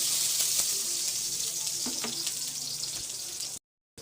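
Onion is sautéed in a pan while making a fish dish, with a steady bright sizzle, a few stirring clinks, and a brief cut to silence at the end.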